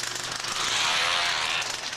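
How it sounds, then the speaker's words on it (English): A moviola film editing machine runs with its picture and sound sides coupled at film speed, giving a steady, loud mechanical whir and rattle that holds evenly for about two seconds with no voices. "this is what they call a moviola"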